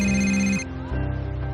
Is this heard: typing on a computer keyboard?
no